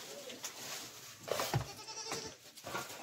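A goat bleats faintly in a cold rural village yard, brief calls over steady background noise in an outdoor setting.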